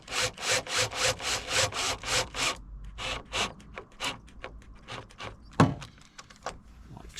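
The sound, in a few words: screwdriver driving self-tapping screw into car side skirt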